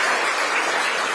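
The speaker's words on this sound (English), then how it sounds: "Can you clap for them" An audience at a Kenyan diaspora engagement event in Doha, Qatar, claps for department members, a dense uniform burst of applause, loud and continuous through the short stretch without speech.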